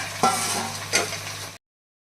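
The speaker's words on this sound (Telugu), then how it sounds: "three by fourth KG chicken వేసుకొని ఫ్రై చేసుకోవాలి" Chicken frying for biryani sizzles steadily in a pan, with two distinct scraping stirs about three-quarters of a second apart, close and clear with no talk.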